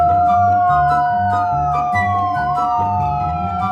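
A loud siren wails continuously with rising and falling tones, close and dominant, over a steady low pulsing rumble.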